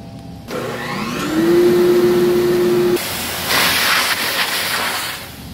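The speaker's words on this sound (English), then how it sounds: "I also repurposed my former dust collection system for fume control. So I can turn that on and off" A repurposed dust collection system running for fume control on a CNC table: a blower starts up with a rising whine, then a steady loud airy roar and hiss that continues through the clip, no talk.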